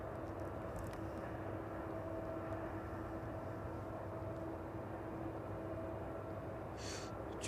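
An aircraft on the runway at East Midlands Airport in the evening, a steady, low, even engine drone at a moderate distance with a faint hum throughout.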